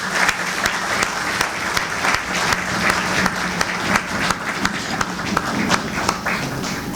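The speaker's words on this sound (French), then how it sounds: "Monsieur Félix Antoine Tshisekedi Tshilombo, que je vous prie d'applaudir." An audience applauds at the closing of an EC-ERC forum after a head of state is named. The clapping is steady with distinct sharp individual claps standing out, and it fills about seven seconds.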